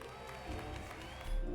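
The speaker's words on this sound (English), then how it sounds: "We got applause." Applause plays in a video game: a short burst of crowd clapping and cheering, fairly faint and steady, swelling slightly toward the end.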